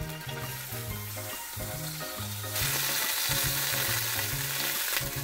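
Meat sizzles and fries in an oiled tamagoyaki pan, a loud steady crackle that grows brighter and denser halfway through, with background music playing throughout.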